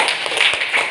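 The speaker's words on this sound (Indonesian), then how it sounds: "Beri aplaus dulu" A classroom applauds group 3, a brief burst of scattered hand claps rising and falling over less than a second.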